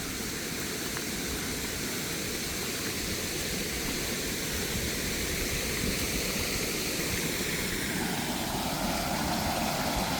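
A creek running full after Tropical Storm Arthur fills the scene with a steady, loud, unbroken rush of water that holds at one level throughout, with no voices.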